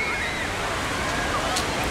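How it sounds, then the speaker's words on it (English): Broad, constant hiss of sea waves and surf breaking on the beach at Den Haag, close and filling the whole moment without a break. "Big waves."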